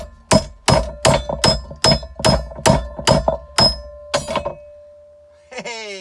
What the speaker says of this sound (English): How do I straighten it? I don't know. Hammer it.